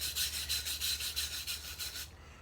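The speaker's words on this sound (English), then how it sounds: "This is generally done with some sort of wire brush, as so. All the dirt just comes off." A wire brush scrubs dirt off bare metal in quick, even back-and-forth strokes, about eight scratchy passes in two seconds, close and clear before stopping.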